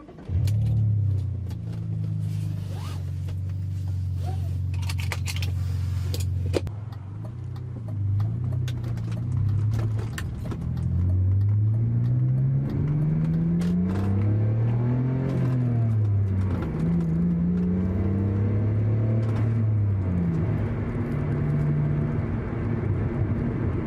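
A BMW 530i with a complete aftermarket exhaust drives on the road. The engine drones steadily, then climbs and falls through several rising revs and gear changes, loud and close.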